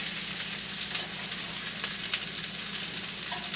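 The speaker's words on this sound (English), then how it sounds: "The onions cooking here." Onions and a burger patty fry together in a pan, giving a steady, loud, close sizzle with faint crackles and a little stirring, and no voices.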